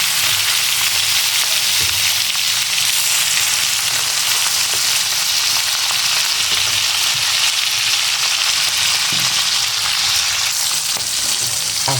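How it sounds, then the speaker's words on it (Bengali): Salted hilsa fish frying in oil in a pan, making a loud, dense, continuous sizzle with occasional soft stirring taps, close and alone. "এই যে হয়ে গেছে আমার ইলিশ মাছ ভাজা"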